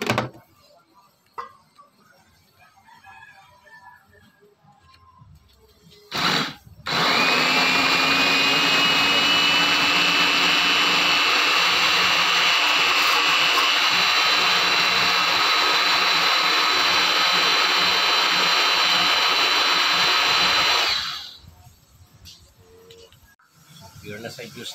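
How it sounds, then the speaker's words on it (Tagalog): An electric blender whirs loudly for about fourteen seconds, pureeing apple slices with water into juice, starting abruptly and cutting off cleanly, with quieter handling noises before and after. "blender na to."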